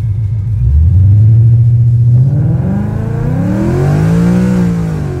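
A car fitted with a 3600 stall torque converter launches hard from a stop, the engine droning low and flat before the revs climb and it pulls away with rising, wavering exhaust tone, loud and close with no talking.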